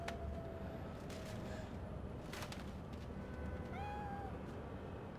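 A cat meows in Cyberpunk 2077, one or two short rising-falling cries over a constant low game ambience with distant gunfire-like thumps.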